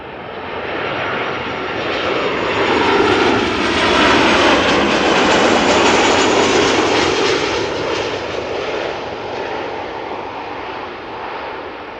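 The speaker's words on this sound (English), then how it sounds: "3595, arriving from Izmir in Turkey after 3 hours and 17 minutes, now touching down" A Corendon Airlines jet from Izmir touches down at Amsterdam Schiphol, its engine roar swelling loud and close toward the middle, then easing off as it rolls out.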